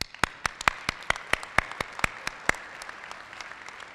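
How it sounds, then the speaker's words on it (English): Graduates at a 2018 fall commencement of the Robertson School of Media and Culture give a round of applause, heard as sparse, distinct claps in an irregular rhythm that thin out toward the end, fairly close in a large hall. "Please give yourself a round of applause."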